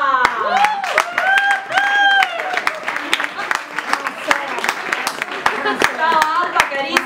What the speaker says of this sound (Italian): accogliamola con un grande applauso